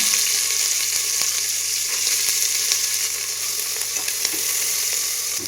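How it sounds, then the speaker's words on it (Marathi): Chopped onion frying in oil spiced with peppercorns for a biryani makes a loud, continuous close-up sizzle, with faint stirring taps under the hiss and no talking. "आता हा कांदा येईल ना छान असं सोनेरी कलर येईपर्यंत भाजून घ्यायचा आहे"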